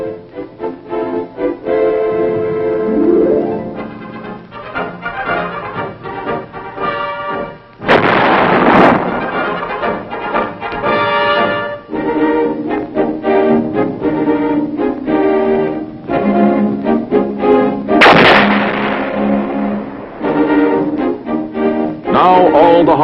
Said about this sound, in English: when the big guns go into action